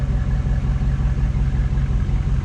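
A 2004 Chevrolet SSR convertible, a retro truck painted in its one-year-only factory color, runs close by with a steady, rumbling low idle that holds level throughout and shows no sharp rev spikes.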